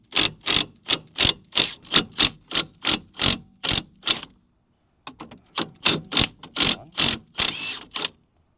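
An impact wrench hammering at a stiff car drop link bolt during work on a budget hot hatch track car, loud repeated bursts of rattling blows, a short pause, then another run of bursts close by.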